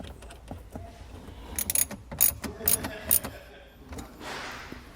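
A ratchet wrench tightens the terminal nut on a positive battery post of a 2021 Toyota, a close burst of rapid metallic clicks over about two seconds amid softer handling noises.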